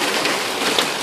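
Rain falls steadily in a dense, even hiss while a baby bathes in it outdoors, with no voices and no break.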